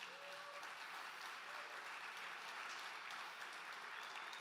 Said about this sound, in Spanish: quiero que le demos un aplauso a Dios por la vida de ellos